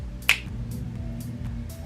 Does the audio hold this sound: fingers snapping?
yes